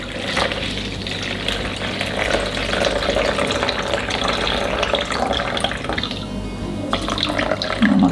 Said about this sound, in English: I am adding 350 grams of water.